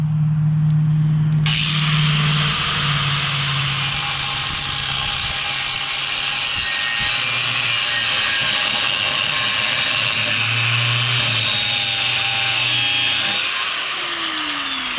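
An angle grinder cuts parts off a Honda Nighthawk motorcycle frame, a harsh, loud, steady whine and grinding rasp that runs nearly nonstop after a brief start, with a low motor hum beneath it.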